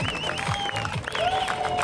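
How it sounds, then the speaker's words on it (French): Crowd applauding at a jet ski event in Challans in 2011, a steady patter of clapping mixed with a revving jet ski engine whine and a loudspeaker voice over it. "Allez, je vous demande de l'applaudir, Nico."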